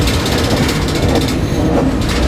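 A freight train pulls out of a Mobile, Alabama rail yard with a loud, continuous rumble and rhythmic clanking of cars, heard up close from on board.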